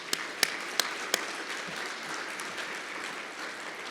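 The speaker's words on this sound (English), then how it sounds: "Please give a round of applause to this, announcement." Audience applause after an announcement at a national security forum: a few sharp claps up front, then a soft, steady wash of clapping that stays faint and even throughout.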